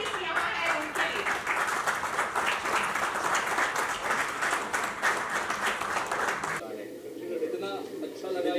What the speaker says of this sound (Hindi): तो एक तालियां मैं चाहूंगी आप सब जो आर्टिस्ट यहाँ हैं उनके लिए